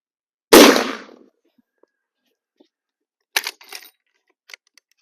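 A Marlin 1895 SBL rifle fires once from a shooting bench. The sharp, loud report decays quickly and is followed by a few faint clicks and handling noises.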